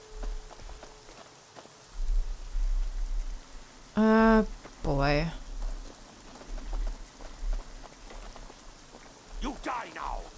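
Rain hisses steadily in the video game Fallout New Vegas, a constant wash under short bursts of game sound and a brief spoken word from a player.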